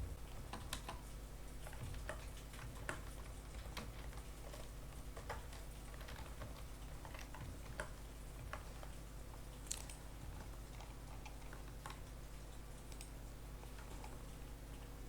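Python code being typed on a computer keyboard makes a continuous run of light, quick key clicks and taps, close and quiet, steady throughout with no talking.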